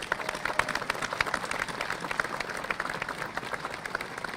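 An audience applauds embassy volunteers at a US Independence Day event, with continuous crisp clapping from many hands at moderate distance and no speech.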